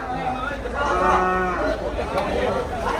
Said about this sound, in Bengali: সাদা গরু পাইছি